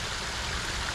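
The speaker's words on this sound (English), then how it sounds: "Waterfall." Water pours steadily over a backyard waterfall fed by an Aquascape pump, a dense, continuous splashing rush filling the whole second at close range.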